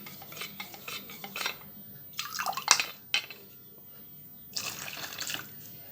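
A spoon stirs water into custard powder, giving short clinking scrapes and liquid swirls in bursts with pauses between, close and alone with no voices.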